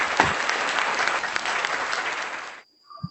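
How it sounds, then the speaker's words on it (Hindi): Enthusiastic audience applause at a Hindi-Urdu poetry gathering welcoming a poet to the stage, loud and continuous for over two seconds before cutting off sharply into near silence and a brief thud. "जोरदार ताली के साथ।"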